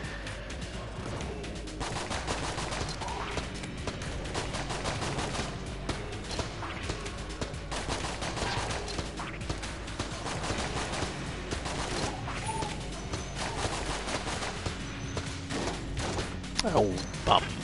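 Starter pistol gunfire in the game Enter the Gungeon, rapid repeated shots mixed with dense layered game effects and blasts, constant and loud, under someone talking.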